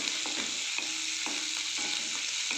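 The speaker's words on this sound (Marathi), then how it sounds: "याला व्यवस्थित आता फ्राय करून घ्यायचं आहे" Green chillies frying in a pan on a low flame, a steady close sizzle broken by regular stirring scrapes roughly every half second, with no talk.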